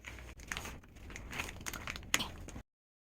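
A plastic package of stew tofu is torn open by hand, with close, crinkling, crackling rips and scattered crunches over a couple of seconds, ending abruptly in silence.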